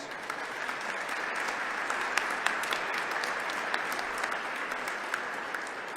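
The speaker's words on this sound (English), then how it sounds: "Another round of applause." Sustained applause from a crowd at the Wisconsin Capitol holiday tree lighting, steady and dense clapping throughout with occasional sharper claps standing out.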